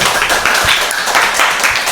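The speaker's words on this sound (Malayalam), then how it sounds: "കൈയടിക്കൂ." A small group claps together in a room, a short burst of brisk, uneven hand claps at fairly close range, steady for about two seconds without speech over it.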